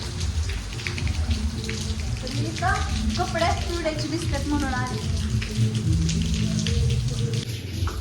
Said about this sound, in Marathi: पार्किंगमध्ये पाऊस लगेच वाढतोय